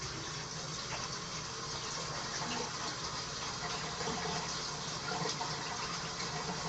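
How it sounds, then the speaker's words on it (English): Water runs steadily from a tap as fingers are rinsed, a continuous faint hiss of flowing water with no talk. "I'm just going to quickly rinse my fingers here"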